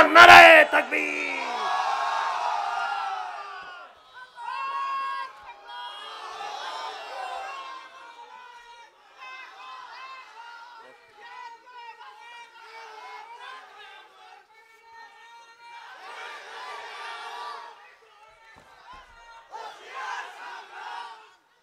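A crowd at an Islamic sermon gathering roars the Nara-e-Takbir slogan, a loud surge of massed voices at the start followed by repeated rising waves of collective shouting that fade and swell again.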